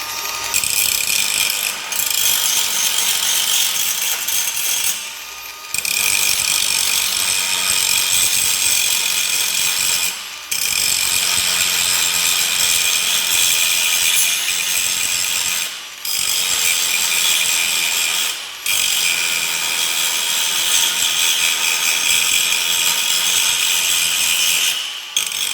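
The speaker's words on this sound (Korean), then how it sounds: "디자인대로 샌딩 한번 해볼게요." A power sander works over a metal surface in an arc-welding workshop, following a design. It makes a loud, steady abrasive roar for about 25 seconds, broken by a few brief pauses, close to the listener and with no talking.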